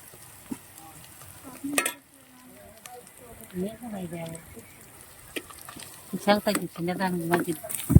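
Dried shark fish fries in a pan with a moderate, uneven sizzle and occasional clatter as it is stirred, while a voice talks over the cooking for much of the time.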